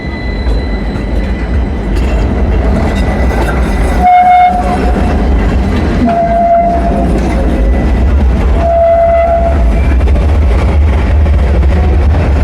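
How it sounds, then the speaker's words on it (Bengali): A tram rolls past on a Milan street, a steady rumble of wheels on rail lasting throughout, with brief high squeal-like tones from the wheels and a busy urban background, no talking. "এই যে ট্রাম যাচ্ছে।"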